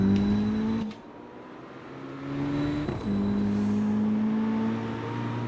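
A Lamborghini engine in the street-racing video game CarX Street revs in a tonal whine, dipping, climbing again and holding a higher pitch, loud and close with no talking.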